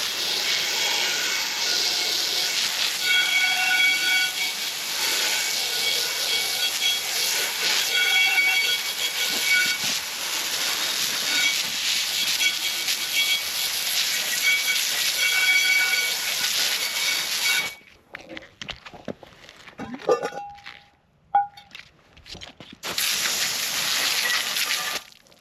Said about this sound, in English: let's give this guy another hose down and see how it looks